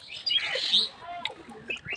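Birds chirp and tweet in short, bright bursts outdoors in the afternoon, fairly faint against a quiet background.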